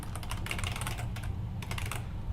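Fingers type quickly on a computer keyboard at close range, a dense run of crisp key clicks with a couple of brief pauses and no talking.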